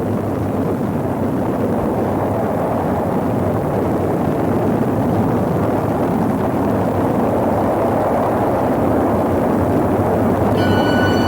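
Space shuttle launch with the engines running, a dense sustained rumbling roar that stays loud and unbroken from start to finish.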